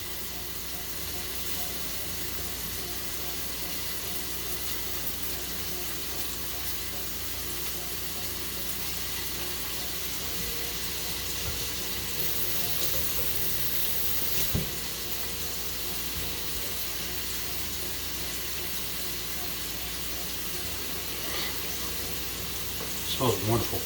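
Sweet chili meatballs sizzle in a pan that is kept moving, giving a steady bright crackle with a soft scrape of stirring near the end. A person talks over the frying.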